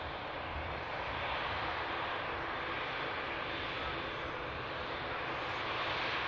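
An aircraft engine at Manchester Airport makes a steady, moderately loud roar with a broad hiss that holds level throughout, with no voices present.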